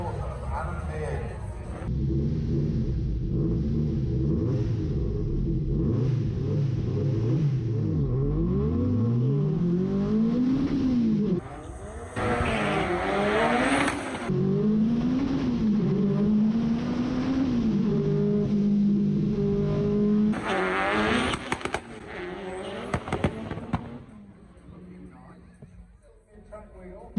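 A twin-engine Chevrolet Corvair Corsa drag car launches and accelerates down a quarter-mile strip, its loud engine roar rising through repeated gear changes, fading with distance, then resuming with more runs.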